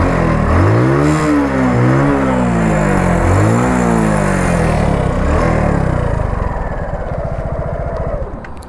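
A motorcycle engine revs hard under full-throttle acceleration, rising and falling whine through several gear shifts, loud and close, then settling into a steady high drone.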